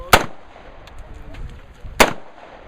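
Two sharp, loud gunshots from a Spikes Tactical ST-15 rifle, about two seconds apart, each cracking hard and fading fast over quiet outdoor background.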